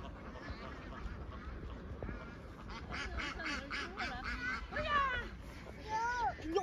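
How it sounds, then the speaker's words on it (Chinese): A large rural flock of roughly 3,000 ducks quacks in overlapping, busy bursts close by, growing denser and louder toward the end over a low outdoor rumble. "看看这成群结队的鸭子啊！"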